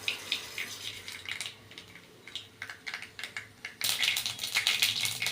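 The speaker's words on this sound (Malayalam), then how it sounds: "ഒരു അര ടീസ്പൂൺ കടുക് ഇട്ട് കൊടുക്കുക" Mustard seeds spatter in hot oil for puli inji, a run of quick irregular pops and crackles that swell into a denser, louder spluttering toward the end.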